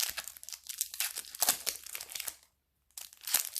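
Crinkly plastic blister packaging on a card deck is torn and crushed in short rustling bursts, pausing briefly before one more crackling tug, close up.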